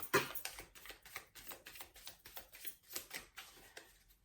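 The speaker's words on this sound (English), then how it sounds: "I'm going to lay the cards and then we will get into it." Tarot cards are shuffled and laid out by hand, giving quick, light snaps and flicks in an uneven rhythm. The sound is faint and close, with no talking.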